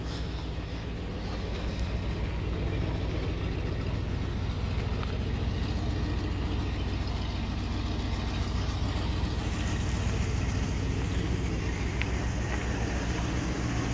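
A 1978 Lincoln Continental Town Car engine idles steadily after a cold start, a continuous low rumble that holds at an even level throughout, with no talk over it.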